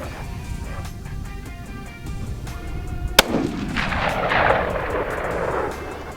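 A Ruger American Gen 2 rifle in .308 fires one sharp, loud shot outdoors, followed by a rolling echo that slowly fades over low background noise.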